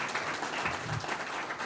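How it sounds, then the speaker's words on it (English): Audience applause at an African social entrepreneurship conference, a steady wash of many hands clapping heard from within the room and lasting the whole moment. "A round of applause for Vincent."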